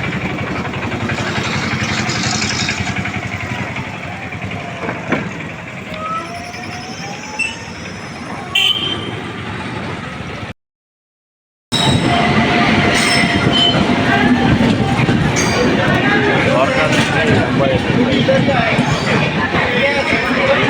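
A train at a railway station, with a continuous loud rumble of wheels and rattling cars, squeals and clacks rising after a brief gap, with voices faintly mixed in.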